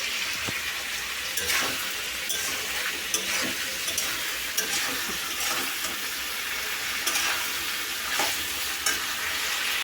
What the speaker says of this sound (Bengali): এবারে সবজিটা ভালো করে ভেজে নেবো